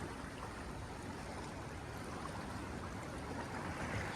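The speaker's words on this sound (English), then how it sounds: "The water is moving." Water flows steadily in a stream in a park in winter, giving a constant, soft rushing wash heard alone without any voices.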